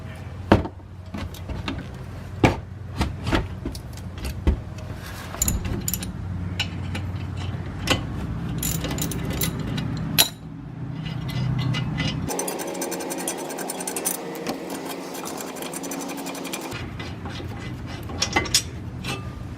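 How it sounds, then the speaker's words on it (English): A ratchet loosens a caliper bolt on a Toyota Corolla during a front brake job, with rhythmic close clicking ticks at a steady pace, sharper knocks between them, and a brief stretch of whirring tool noise. "And when it breaks loose, get you out to a regular ratchet. Take it the rest of the way."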